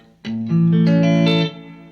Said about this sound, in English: this is what the Telecaster sounds like